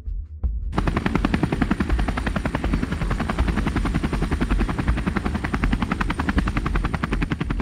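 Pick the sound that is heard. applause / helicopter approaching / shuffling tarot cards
helicopter approaching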